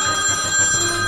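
A telephone rings loudly and steadily, its electronic bell tone continuous and up close, with no voices over it.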